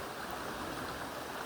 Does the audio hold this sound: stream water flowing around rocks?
yes